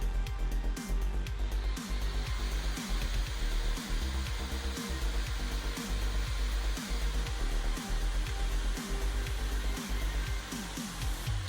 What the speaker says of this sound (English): That is max fan speed and the noise that it puts out.